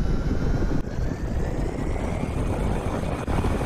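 A Bell 47 helicopter engine in the DCS World flight simulator spools up as a steady, loud broadband whine and rumble that holds level throughout, with no voices.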